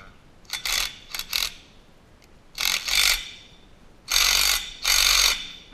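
A ratchet wrench tightens a bolt and nut on the mounting hardware of a steel shooting target, sounding as close, sharp clicking bursts: two short clusters, then two longer runs of rapid ratcheting with quiet pauses between.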